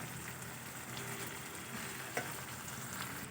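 Cooked rice is added onto vegetables frying in a wok for a Bengali fried rice dish, giving a steady, soft sizzle throughout with a faint clink partway through.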